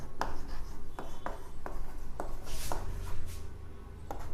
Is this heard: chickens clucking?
no